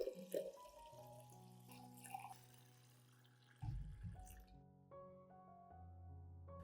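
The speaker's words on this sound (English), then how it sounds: "Add 1 liter of clean water at room temperature to dilute the solution." Clean room-temperature water being poured to dilute a clove solution for watering orchids, a faint close trickle and splash in a quiet room, with soft tonal hums in the background.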